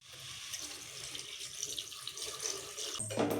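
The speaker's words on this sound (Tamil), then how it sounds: "இப்போ நம்ம தண்ணி சேர்த்துக்கலாம்." Water pours steadily into a pot of kovakkai vatha kulambu, a continuous close splashing hiss that ends with a short clunk.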